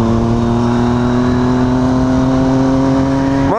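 A motorcycle engine holds a loud, steady revving tone, then climbs sharply in pitch right at the end as the throttle opens.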